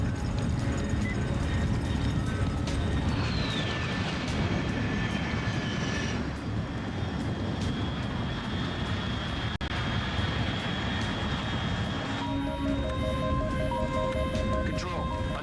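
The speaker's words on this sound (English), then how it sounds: "Control, unidentified aircraft detected." Aircraft in Metal Gear Solid 3 drones loudly and steadily throughout, a dense roar with tonal whines shifting partway, while voices speak over it.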